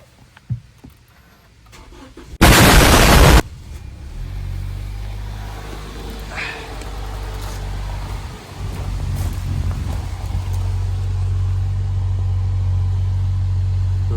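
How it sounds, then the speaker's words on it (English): A Lexus IS300 with a newly installed aftermarket subwoofer and amplifier starts up: a loud, harsh burst of about a second, then a steady low idling rumble close by that carries on to the end, with no talking. "I'm gonna go ahead and just start my car."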